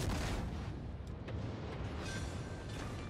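Heavy naval gunfire in World of Warships, the ship's guns booming in a dense, continuous low rumble of overlapping blasts, loud and close, with a few sharper reports breaking through.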